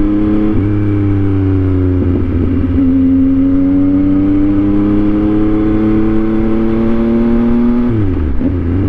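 A Yamaha MT-09 motorcycle engine revs loudly and close, its droning exhaust note climbing slowly and steadily before dropping off sharply at the end.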